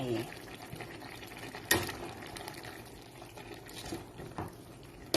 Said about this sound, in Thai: จากใส่วุ้นเส้นลงไป